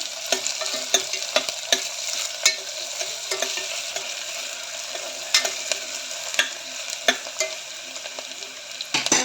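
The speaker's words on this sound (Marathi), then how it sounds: "तो पण चांगल्या प्रकारे व्यवस्थित असा तेलामध्ये परतून घ्यायचा." Finely chopped onion sautés in oil for a khichdi, with a continuous sizzle and irregular clicks and scrapes of stirring against the pan, close and fairly loud, with no voices.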